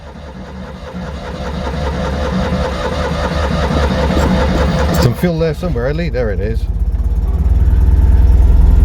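A Citroën 2CV engine idles steadily after starting, a low, even, throbbing chug that grows somewhat louder and rougher toward the end, with someone talking close by over it.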